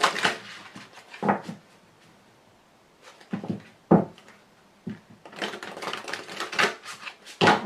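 Very large tarot cards are shuffled by hand in uneven bursts of crisp slapping and riffling clatter, separated by short quiet pauses, close up and with no speech.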